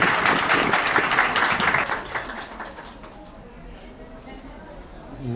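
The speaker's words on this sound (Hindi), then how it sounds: "बहुत सी तालियाँ आप।" An audience breaks into loud, close applause to welcome Dr. Rabia at a beautician class. The clapping is dense at first, then thins and fades to scattered claps after about two seconds.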